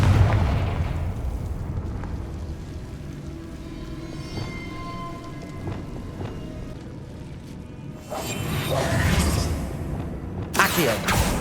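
Confringo fire-spell blasts in the video game Hogwarts Legacy, heard as loud booming bursts with a rumbling tail, one near the start and more around the eight- and eleven-second marks, over a continuous low game soundscape.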